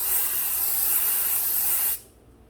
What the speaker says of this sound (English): Now we're gonna try to spray the strap.